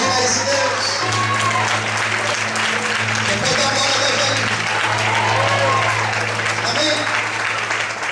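A church congregation applauds during a Portuguese-language sermon, dense continuous clapping filling the room while a low sustained organ or keyboard tone hums beneath and voices rise over it.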